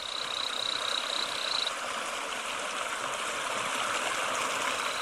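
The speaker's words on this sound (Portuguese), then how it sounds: "A rã da cachoeira." Loud rushing stream in the Brazilian Amazon fills the scene with a constant roar, while a thin, high waterfall frog call pipes briefly at the start before fading into the water noise.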